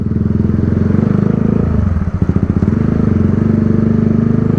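A motorcycle engine drones loudly while riding, close and steady with a brief dip and rise as it accelerates, no speech.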